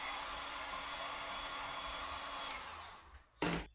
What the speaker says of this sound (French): On va chauffer encore une petite fois à 70 degrés